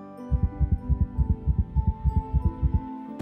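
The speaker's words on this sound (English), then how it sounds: "he suddenly felt his heart beat faster in his chest" A heartbeat sound effect thumps in a steady, quick rhythm, about a dozen deep, muffled beats over a low hum, close and even, then stops abruptly.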